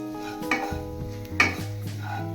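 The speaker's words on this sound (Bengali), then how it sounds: "এবার সবকিছুর সাথে 1-2 মিনিট মশলা আমি মিশিয়ে নেব" A spoon stirs pav bhaji spices with a little water in a pan, giving brief scraping clinks and soft sizzles over steady background music.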